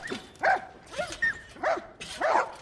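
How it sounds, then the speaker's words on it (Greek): Dogs bark in The Last of Us video game, a run of five or six sharp, close barks and yips spaced about half a second apart, each loud and clear against a quiet background. "Σκυλάκια."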